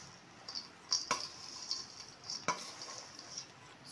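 A spoon stirs salt through a batch of homemade sweet-sour poha namkeen, giving soft scraping clinks against the pan with two sharper knocks, close and fairly quiet with no talking.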